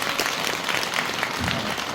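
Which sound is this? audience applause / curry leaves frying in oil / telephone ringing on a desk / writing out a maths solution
audience applause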